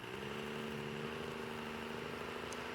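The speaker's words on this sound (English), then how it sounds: "this crazy, wacky, diesel-powered, patinaed up, weirdo pickup truck" A patina-covered diesel pickup truck sits idling at a drag racing starting line, a steady, low, droning engine hum that holds even and unbroken, with no talk over it.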